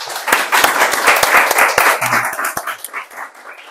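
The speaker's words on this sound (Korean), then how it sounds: "큰 박수로 맞이해 주십시오." An audience at a university seminar claps to welcome a guest speaker. The clapping is dense and lively at first, then thins and fades toward the end.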